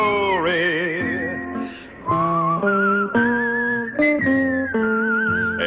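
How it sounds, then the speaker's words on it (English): Clear, melodic whistling carries a tune in the theme song of the Western TV series Tombstone Territory, sliding between sustained notes, loud and close with no talk over it. "whistle a tune that'll carry me to Tombstone territory"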